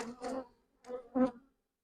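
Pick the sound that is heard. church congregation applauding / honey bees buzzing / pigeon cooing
honey bees buzzing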